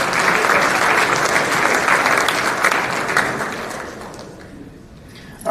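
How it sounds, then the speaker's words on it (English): Steady applause from a crowd at a college baseball championship banquet, loud and sustained for several seconds before thinning out toward the end. "Let's give it a nice round of applause for Justin Williams."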